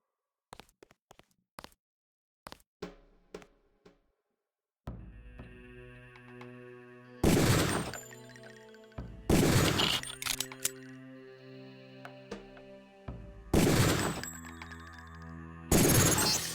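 Gunshots fired at targets on a Deus Ex tutorial firing range: a few sharp, loud bursts spaced a couple of seconds apart over a steady electronic hum, preceded by faint clicks.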